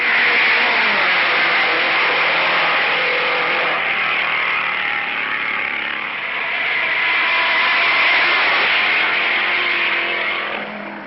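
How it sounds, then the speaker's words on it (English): A supercharged Novi V8 race car howls down the straightaway at about 180 mph past two other cars, a loud sustained engine roar that dips slightly midway, then swells again before fading at the end. "the Novi can, coming down the straightaway at 180 miles an hour to pass both cars"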